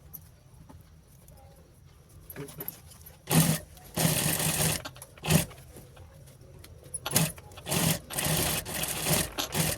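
A sewing machine stitches a chain onto a purse made from saree lace, running in short bursts of rapid mechanical clatter between quieter pauses, close by.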